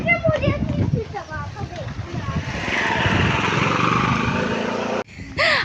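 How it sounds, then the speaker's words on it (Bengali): A motorcycle drones closer, its engine growing into a steady buzzing rumble partway through before cutting off. Children and other voices talk over it at the start and the end. "মোটর সাইকেল আসতেছে ওই দেখো"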